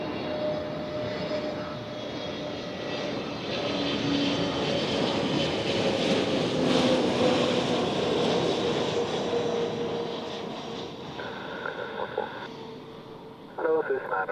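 A British Airways airliner's jet engines roar at Zurich Airport in fog, swelling to a loud peak and then fading, with a person talking and tower radio chatter over it.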